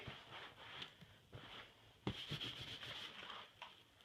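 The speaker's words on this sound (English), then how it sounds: "wipe it with a damp rag" Soft, repeated rubbing strokes of a damp rag across a surface smoothed with flexible filler, a steady swishing scrub at close range with brief pauses between passes.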